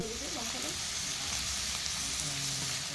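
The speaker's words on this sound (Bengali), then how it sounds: "এর মধ্যে এবার আমি বাঁধাকপিটাকে দিয়ে দিচ্ছি" Cabbage stir-frying in a pan with fried onions, a continuous loud sizzle with occasional stirring, and a voice speaking faintly beneath it.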